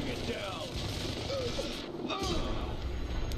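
A helicopter-mounted machine gun fires during Army of Two: The Devil's Cartel on Xbox 360 as a dense, continuous clatter of gunfire and crashing impacts that fills the scene.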